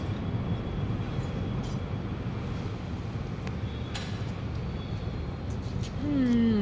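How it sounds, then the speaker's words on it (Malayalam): A metro train passes near a viewpoint, producing a broad continuous rumble and hiss of rail traffic at moderate distance, swelling slightly at the end as a voice cuts in briefly. "മെട്രോ പോണുണ്ട് കേട്ടോ."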